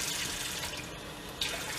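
Water runs steadily, like a tap, while it is added to a baking soda paste for oven cleaning, with a brief sharper splash near the end and no talking.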